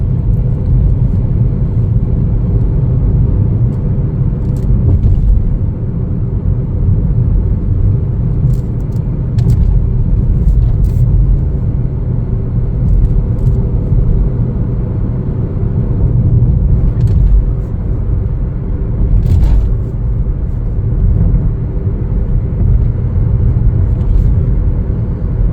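Continuous low rumble of a 2024 Chevrolet Trax LS engine and road noise while driving, steady and loud, with faint occasional clicks and no talking.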